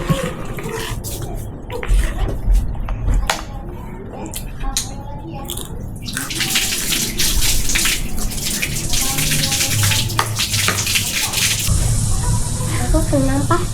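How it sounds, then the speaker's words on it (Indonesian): Tap water runs during handwashing at home, a steady broadband hiss that swells after a few seconds and carries on under light clatter and nearby voices. "Cuci tangan dulu ya."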